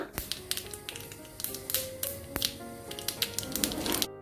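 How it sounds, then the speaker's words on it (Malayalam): Mustard seeds pop and crackle in hot oil in quick, irregular bursts over a low, steady sizzle, while tempering for Kerala moru curry. "അതിലേക്ക് കടുക് ഇട്ട് കൊടുക്കുക. കടുക് നന്നായി പൊട്ടണം."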